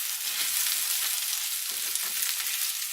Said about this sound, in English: You need to be stirring that rice